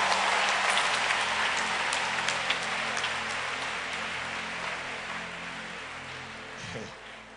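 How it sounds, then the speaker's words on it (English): A church crowd claps continuously, loud and dense at first, then gradually fading, with a voice briefly heard near the end. "Somebody clap your hands to Jesus and give God the glory."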